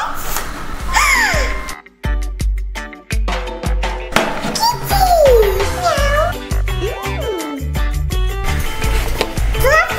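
A cartoon cat meowing several times, the mewing rising and falling over busy music and sound effects, loud and close.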